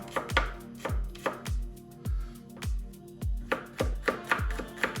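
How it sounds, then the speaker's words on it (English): Garlic being chopped finely with a knife on a board makes a quick, even run of close, crisp taps, about two or three a second, with no talking. "Chop that a little bit more finer."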